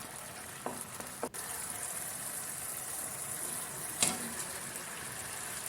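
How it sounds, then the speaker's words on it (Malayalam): Fried Chicken 65 pieces drop into hot sauce in a pan, giving a few soft thuds and a brief burst of sizzling, then a low steady simmer with no talking. "ആ സമയത്ത് നമുക്ക് വറുത്ത് വെച്ചിരിക്കുന്ന ചിക്കൻ പീസസ് ഇട്ട് കൊടുക്കാം."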